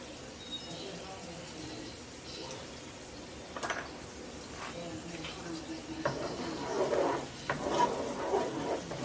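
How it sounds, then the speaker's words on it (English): A low, steady sizzle of potatoes frying in a pan, with occasional scraping and clinks of a utensil stirring, growing slightly louder toward the end. "And I like to fry my potatoes."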